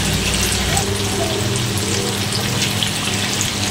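Tofu sizzles in hot oil as it fries until crisp, giving a steady, dense crackle that runs unbroken and fairly close throughout.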